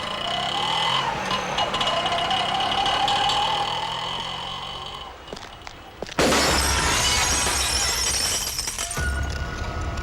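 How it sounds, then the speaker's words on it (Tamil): Glass shatters with a sudden loud crash partway through and keeps crackling for a few seconds. Before the break, a busy, noisy scene with a steady engine-like hum fills the background. "கண்ணாடி ஒழிஞ்சு போச்சுன்னு கவலைப்படுறியா?"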